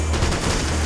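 Rapid automatic gunfire from a weapon in Max Payne 3, a loud, dense burst of shots lasting under a second with no talk over it.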